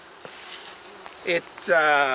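Honeybees buzz at a nuc hive being inspected, a close steady drone with individual bees whining past near the end.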